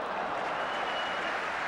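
Stadium crowd at a 1981 football match breaking into sustained applause for a fullback, a dense wash of clapping heard at a distance with no break.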